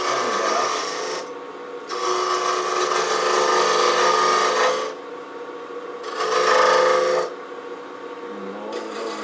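A detail spindle gouge cuts into a cherry burl spinning on a wood lathe, producing a close, continuous scraping rasp that swells during two longer passes and fades between cuts.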